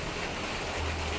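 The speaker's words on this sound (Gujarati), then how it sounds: "જોઈ લો ફૂલ સ્પીડમાં વરસાદ ચાલુ થઈ ગયો." Heavy rain pours down at Bhavnath, a dense, even hiss of falling water that fills the short stretch without pause, fairly quiet overall and with no voices.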